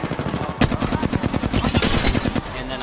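A rapid burst of gunfire aimed at a player in a game, loud, close, sharp shots repeating in a fast, steady rhythm for about two seconds before stopping, with faint voices underneath.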